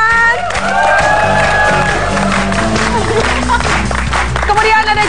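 A television studio audience breaks into loud applause and cheering for a guest chef, a dense roar of clapping and whoops that stays strong throughout, mixed with music and a voice heard over the crowd.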